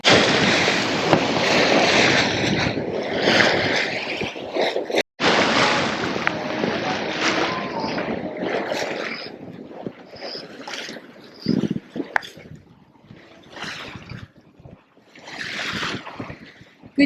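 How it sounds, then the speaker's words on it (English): Strong upwind gusts of 17 to 18 knots and waves batter a sailing boat on a passage from Sicily to Montenegro, with loud, continuous roaring wind and splashing water that easing into softer surges toward the end. "The wind has picked up again. About 17-18 knots upwind."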